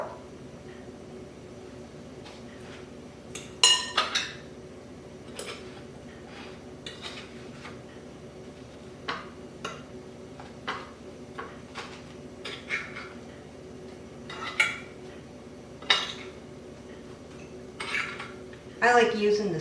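Knife slicing an eggplant into thick rounds on a board, a series of sharp, irregular clicks and taps spread over several seconds, close and fairly quiet with a low steady hum beneath, no voices.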